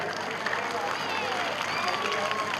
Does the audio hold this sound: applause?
yes